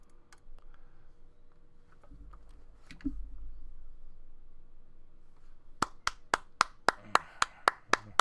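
A small live-show audience claps briefly, a string of about ten sharp, evenly spaced claps near the end after quiet room noise and faint shuffling.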